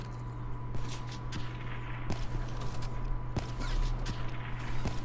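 Gunfire in the Black Ops 3 video game comes as rapid bursts of shots over a constant hum and steady game background, with no talking.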